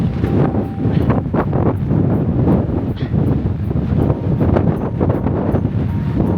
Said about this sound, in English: The wind is pulling me. I can barely stay up.